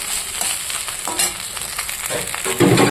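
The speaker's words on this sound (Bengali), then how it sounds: "বন্ধুরা এই যে পরোটাটা ভাজার জন্য দিয়ে দিয়েছি" Paratha frying in a pan for a home breakfast, a steady close sizzle with a louder burst of crackling near the end, no voices.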